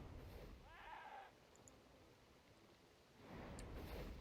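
Sheep in the RuneScape 3 video game give faint, short bleats above a steady low ambient background, one near the start and another softer one toward the end.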